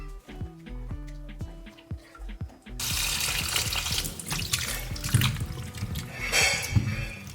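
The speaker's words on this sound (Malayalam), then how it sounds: "അപ്പൊ അതെ നമ്മള് മുന്തിരി കഴുകാൻ പോകും" Grapes being washed under a running kitchen tap: a few soft knocks and clinks of the bowl first, then a steady close splashing stream of water with bursts of sloshing as the fruit is stirred.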